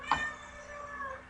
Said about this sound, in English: Sorry, the cat.